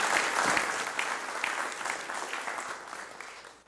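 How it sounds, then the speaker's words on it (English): Audience applause fills a city council meeting room, steady and moderately distant, gradually fading toward the end with no talking over it. "Let's show a round of applause for the leadership in our city"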